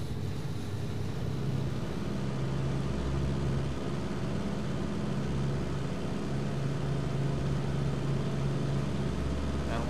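Engines of a Junkers Ju 88 bomber at full throttle with the brakes on in the flight sim game Cliffs of Dover, a constant low droning roar with a pulsing hum that stays even throughout.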